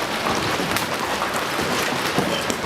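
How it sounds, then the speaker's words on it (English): Large hail pounds down during a storm in southeastern Oklahoma, a loud, dense, continuous roar of impacts drumming on surfaces with no pauses. "Large hail pounded southeastern Oklahoma, while tornado warnings were in effect,"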